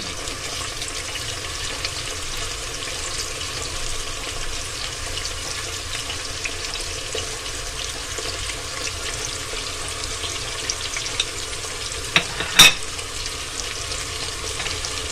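Steady oil sizzling as garlic and ginger fry, with a brief clatter of a utensil near the end; no one speaks.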